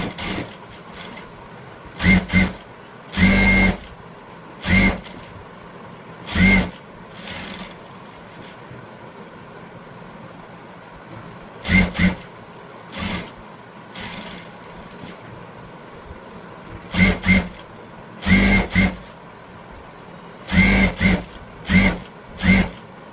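A sewing machine stitches a blouse in short, loud bursts of fast mechanical whirring, each lasting about a second, with quiet pauses between runs.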